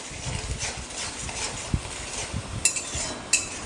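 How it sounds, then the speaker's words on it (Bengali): A spice paste of tomato, onion, salt and turmeric sautés in a pan for a catla fish curry, with faint stirring and a few sharp taps of a utensil against metal over a quiet background hiss, nearby and without speech. "এবার আমি মশলাটাকে কষিয়ে নেব। স্বাদ মতো লবণ হলুদ দেব, দিয়ে আমি এটাকে সুন্দর করে কষাবো।"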